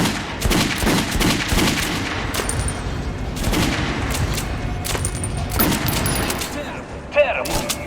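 Rapid gunfire at a training dummy in Metro Last Light, loud repeated shots and bursts cracking in quick succession with mechanical clicks, a voice speaking over the shooting.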